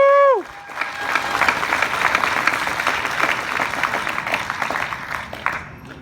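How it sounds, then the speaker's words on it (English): An evening audience at a New Hampshire gathering breaks into a full round of applause that carries steadily from start to finish, a dense close wash of many hands clapping with a faint whoop or two mixed in. "Let's give her a round of applause."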